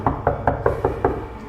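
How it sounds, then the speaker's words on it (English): Six hard, evenly spaced knocks strike the front door of a building, loud and close, each a sharp rap in quick succession. "There was no doorbell, so I just knocked really hard."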